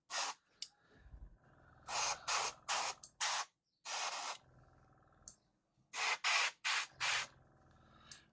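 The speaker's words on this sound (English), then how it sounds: "I still have to figure out how to capture the airbrushing correctly." An airbrush sprays paint onto a diecast model sports car in short, separate hissing bursts, close and fairly loud, with quiet pauses between them.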